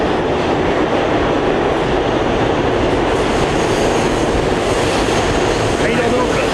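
A New York metro train runs past with a loud, continuous roar and rumble of wheels and cars on the track, heard close and steady throughout.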